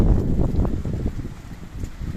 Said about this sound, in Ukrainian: Немає сильний вітер, урагані ще такий.